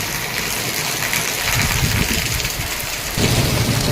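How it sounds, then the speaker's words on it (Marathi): Heavy rain roars steadily with low rumbling thunder underneath, growing louder near the end, in a Mumbai downpour. "विजांचा गडगडाट"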